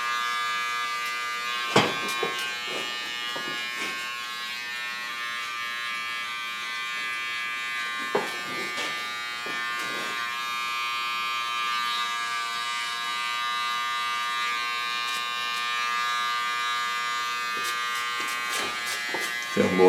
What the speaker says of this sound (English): beautiful zero shaver, get rid of the small hair on the side, also into the neckline